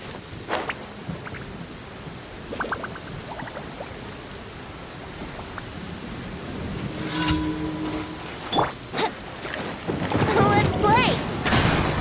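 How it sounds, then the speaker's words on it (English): Thunder rumbles and crackles over steady rain in the video game Genshin Impact, with a loud burst of storm noise toward the end and a few scattered game effects. "thunder and lightning"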